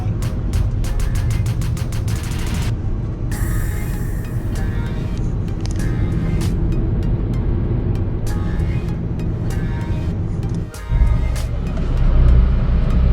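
A 2018 MG GS 1.5 X car accelerating hard, a steady loud engine drone running throughout with a brief dip near the end before surging again.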